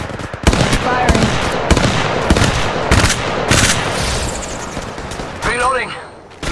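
Bursts of rapid automatic gunfire from the Apex Legends video game crack out loud and close in quick volleys, with short pauses between them and a brief voice partway through.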